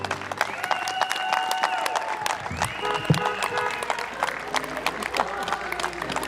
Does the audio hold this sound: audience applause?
yes